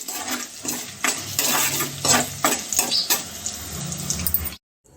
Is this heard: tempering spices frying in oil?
yes